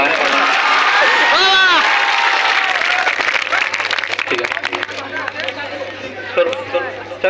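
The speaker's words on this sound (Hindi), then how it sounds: "एक बार जोरदार तालियां बजा दीजिए" An audience claps at a school stage show, a burst of applause mixed with crowd chatter and a few whistles, loud at first then thinning out.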